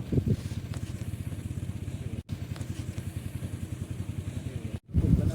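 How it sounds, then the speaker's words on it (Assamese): A motor boat's engine runs close by on a river crossing to an island, a steady, rapid low chugging throb that continues almost without a break. "ইঞ্জিনৰ শব্দ আছে"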